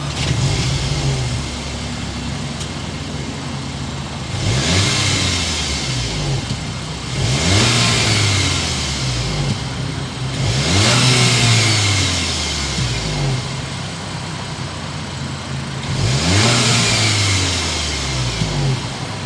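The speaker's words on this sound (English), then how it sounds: "start it up so you can hear that exhaust note" A 2023 Volkswagen Arteon SEL R-Line, a 300-horsepower car, revs its engine in four or five loud, close bursts, each swelling exhaust note rising then falling back to a steady idle rumble between them.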